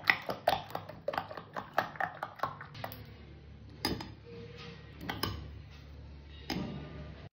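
A spoon beats eggs seasoned with salt in a bowl for a bread omelette, producing quick clinking taps in a rapid burst that slows to sparse, quiet strikes.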